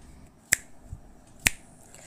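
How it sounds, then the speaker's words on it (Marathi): Two crisp finger snaps about a second apart, sharp and close in a quiet room, keeping time for a recited children's poem about a lighthouse. "चाल म्हणताना स्नॅप करायचं आहे. स्नॅप म्हणजे चुटकी."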